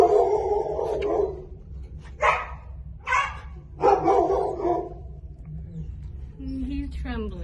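A neighboring dog at an animal shelter barks in loud, separate bursts at close range, with a person talking over the start and some higher yips near the end.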